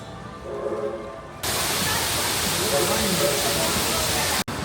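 Rushing water at the Mystic River Falls water ride in Silver Dollar City, a loud steady broadband roar that starts abruptly and continues without letup, cut briefly near the end.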